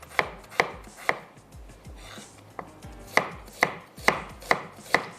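An onion is roughly chopped with a knife on a board: about ten sharp, close knocks in an uneven rhythm, with a brief pause midway and no speech.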